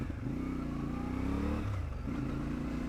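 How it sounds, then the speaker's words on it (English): A CF Moto 450MT parallel-twin motorcycle engine runs steadily with a throaty, pulsing idle and a slight rise in revs, close by and alone. "It sounds like a T7 or any CP2 engine bike."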